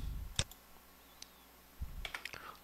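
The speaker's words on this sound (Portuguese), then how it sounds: "Dou um Enter aqui, né? Aperta F8." F8 and Enter presses on a computer keyboard during Lazarus Pascal programming, a few isolated soft clicks and taps in a quiet room, with a short cluster of keystrokes near the end.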